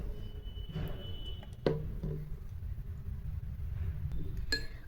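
A spoon clinks against a bowl as coconut oil is scooped in for a homemade body oil, with a sharp clink near the middle and another toward the end over a low, steady room hum.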